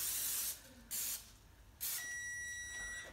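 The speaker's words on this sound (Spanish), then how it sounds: "spray de mantequilla" Butter cooking spray hissing from a can in a home kitchen while making monkey bread, two short bursts followed by a longer spray, close and loud, with a faint electronic beep tone afterward.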